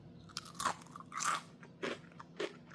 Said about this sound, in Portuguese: Vou até morder um pedacinho aqui, só escuta.